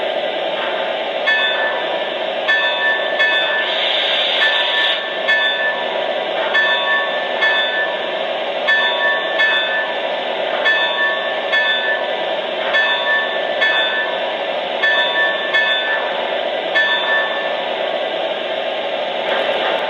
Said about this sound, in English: And now let's check out the bell.